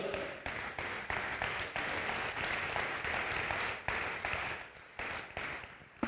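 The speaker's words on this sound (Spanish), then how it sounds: "Dale un fuerte aplauso a Dios." A congregation at a pastors' and leaders' breakfast claps steadily for several seconds, a close, continuous wash of hands with small dips in intensity.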